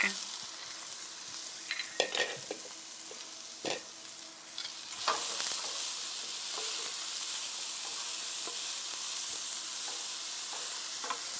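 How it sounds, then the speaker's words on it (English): Ginger and garlic frying in pan drippings and high-temperature cooking oil: a few utensil clanks and stirs at first, then a loud, even sizzle that holds steady with no talking. "We're gonna add all of this to those drippings in the pan and our high temperature cooking oil, okay?"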